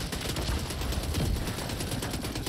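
An automated turret in The Division 2 fires a continuous rapid burst of gunfire, its dense rattling shots loud and steady throughout with no voices.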